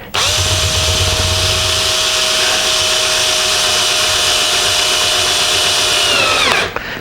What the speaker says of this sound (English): I'll use my little handy drill here